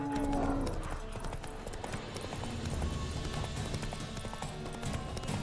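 Roach the horse in The Witcher 3 moves along with rhythmic hoof clip-clops that run steadily under game music and ambience, fairly loud and close.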